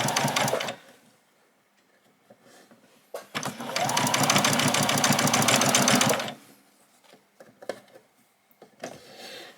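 A sewing machine stitching a doll's dress: a short whirring burst, then a sustained three-second run of rapid, steady mechanical stitching, close and loud, followed by quieter clicks and handling noises.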